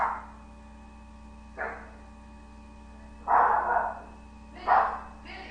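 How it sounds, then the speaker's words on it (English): A dog barks in a home where a child is playing a pie-in-the-face game, giving a few short barks spaced a second or more apart over a steady low electrical hum, fairly close and moderately loud. "Dog is barking"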